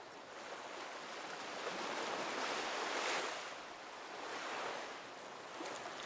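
Ocean waves breaking on a cold, windy beach at Disney's Vero Beach Resort in Florida, a steady roaring wash of surf swelling and receding with wind noise over the microphone, no voices.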